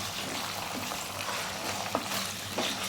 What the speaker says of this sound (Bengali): এটা এর সঙ্গে একটু ভালো করে ভেজে নেব